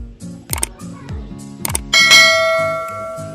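A subscribe-button sound effect plays: a couple of soft clicks and pops followed by a bright ringing notification bell chime that rings out and decays over about a second, close and clean with no speech.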